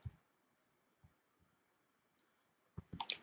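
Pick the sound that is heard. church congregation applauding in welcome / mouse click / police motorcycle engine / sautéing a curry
mouse click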